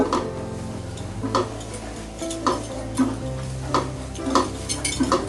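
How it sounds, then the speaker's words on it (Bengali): Flour is stirred in melted butter in a pan over low heat for a pasta sauce, giving a soft steady sizzle with regular scraping strokes about once a second and light clinks, near and alone. "এবার আমি এটাকে ভেজে নিব"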